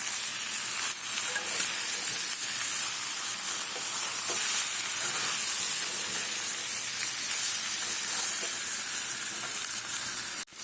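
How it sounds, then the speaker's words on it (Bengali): Meat for aloo dum is sautéed in a pan with a loud, continuous close-up hiss and sizzle that holds steady for about ten seconds, with faint stirring underneath, then cuts off abruptly. "এই যে কষাচ্ছি"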